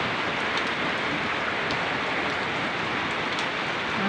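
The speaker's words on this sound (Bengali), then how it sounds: "অনেক বৃষ্টি পড়তেছে, দেখো অনেক বৃষ্টি পড়তেছে।" Heavy rain falls steadily and densely, a loud unbroken hiss of drops striking surfaces close by, with no voices.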